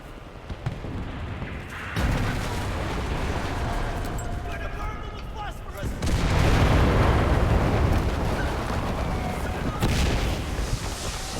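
Grenade and bomb blasts in a shooting video game with tanks, heavy booming bursts swelling in at two points over a constant rumbling battle din, with a voice talking throughout.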